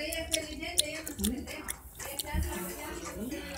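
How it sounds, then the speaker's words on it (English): Wet, smacking gum chewing close to the mic in irregular bursts, heard alongside nearby voices and soft mouth noises. "Stop chewing gum."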